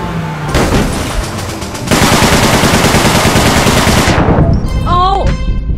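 Heavy automatic gunfire in the video game APB: Reloaded, loud and close, a rapid sustained burst that stops abruptly, followed by shouting voices.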